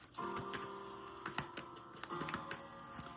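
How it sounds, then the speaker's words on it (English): Tarot cards are shuffled by hand, giving quick, light papery clicks and riffling taps in uneven bursts, close and fairly quiet, with no talking over them. "All right, let's keep shuffling."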